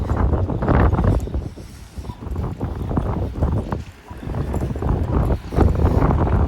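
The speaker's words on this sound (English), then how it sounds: "Hard to see. Wind's blowing." Strong gusty wind buffets the microphone outdoors while approaching a church hosting the Christ and Culture Conference, a loud, continuous roar with rough low-end bursts throughout.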